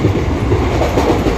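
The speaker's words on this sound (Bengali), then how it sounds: "ট্রেনের এই যে কুচিকচিক আওয়াজটা হয় না" Teesta Torsa Express wheels clattering steadily along the track on the Sealdah to New Jalpaiguri run, heard up close from beside an open carriage door with a continuous rumbling rhythm and no voices.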